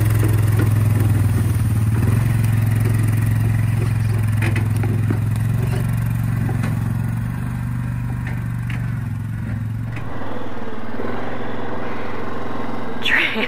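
A Yamaha Grizzly 700 ATV pulls away towing a homemade trailer with a flat tire. Its engine drones steadily with loud clattering, and the note shifts and drops near the end as it drives off.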